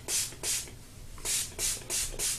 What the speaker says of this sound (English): And we just spray this in to give your hair that moisture back in it.